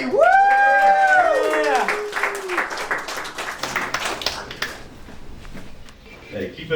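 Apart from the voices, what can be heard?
audience applause for a comedian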